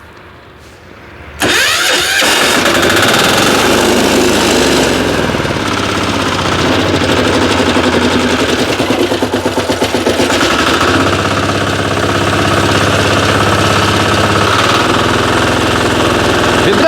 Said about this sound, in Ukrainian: як запустити дизельний двигун, коли він постояв, трохи прокачати